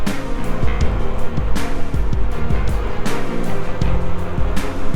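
Engwe P26 e-bike ridden at full throttle at about 17 to 18 mph with a 100 kg rider; steady, loud wind and road rush continues throughout, with rhythmic bumps and no talk.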